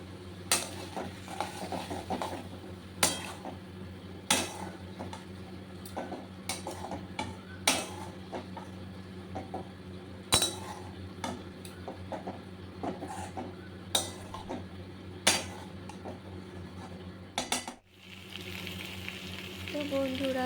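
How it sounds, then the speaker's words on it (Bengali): Cauliflower frying with spice paste in a pan, stirred and coated, giving a continuous low sizzle broken by regular sharp spatula knocks and scrapes against the pot, a brief lull near the end before the frying hiss returns. "এবার ভালো করে ফুলকপিগুলো ওই মশলা কষানোটা দিয়ে ভালো করে মাখিয়ে নিতে হবে"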